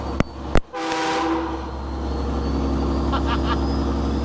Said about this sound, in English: Oh, I love that train horn.